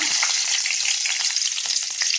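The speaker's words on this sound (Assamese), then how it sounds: "এফালে তেল গৰম হৈ গল ইয়াতে অকণমান পাঁচফোৰণ দি দিছো আৰু লগত জলকীয়া" Panch phoron spices and green chilies crackle in hot oil, a loud, close, continuous sizzle with scattered popping.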